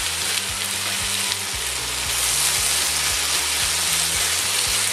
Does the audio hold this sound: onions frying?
yes